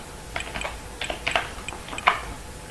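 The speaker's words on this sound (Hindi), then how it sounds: "और इधर भी मैं लिख देता हूँ प्राइस" Sparse keystrokes on a computer keyboard while entering JavaScript code, a few light clicks and short bursts spread across a quiet background.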